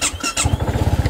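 A BMW C400GT scooter engine cranks with a brief starter squeal, then catches and settles into a rapid, throbbing idle close by.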